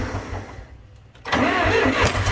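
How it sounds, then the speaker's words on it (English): A John Deere 3020 LP tractor engine cranks, drops off briefly, then catches into a loud, rough running roar up close, with no talk. "I'm just cranking it over for no reason, aren't I?"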